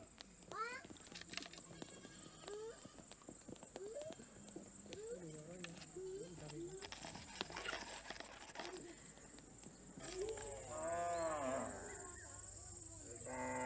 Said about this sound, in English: At the end of the day, the cattle are driven slowly home.